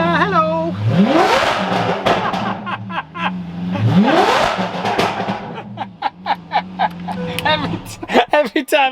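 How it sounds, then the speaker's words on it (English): A Lamborghini Aventador Roadster cold-starts, its engine rising through two loud revs that sweep up steeply before settling to a rumbling idle, with people talking over the engine near the end. "Cold startup, Aventador Roadster."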